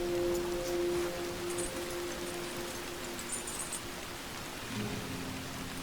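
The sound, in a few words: rain in Red Dead Redemption Online video game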